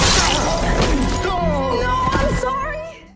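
A mirror clone bursting apart like glass in a superhero drama, a loud sustained shattering crash with tinkling debris that fades out over a few seconds.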